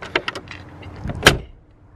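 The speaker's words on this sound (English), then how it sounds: "kind of gotta slam G-Wagon doors." Doors of a Mercedes G-Wagon being shut, a few sharp clicks and latch knocks followed by one heavy solid slam near the end, close by with no talking.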